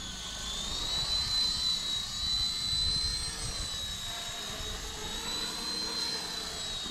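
Small RC model helicopter flying outdoors over dusty ground, a steady high-pitched rotor and motor whine that holds continuously at moderate distance with a slight wavering pitch, heard alone without talk.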